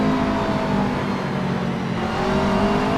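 A McLaren GT car chasing a Mercedes in a sim racing game, its engine a loud, steady high whine with a faint layered drone from another car under it, holding constant.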